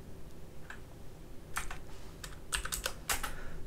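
Keys clack on a computer keyboard during CAD drafting, first a few sparse taps and then a quick burst of close, crisp keystrokes ending on a firmer press.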